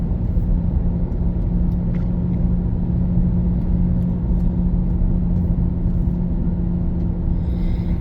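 Car driving along a road at over 60 mph, giving a steady, loud engine and road rumble with a constant low hum throughout and no talking.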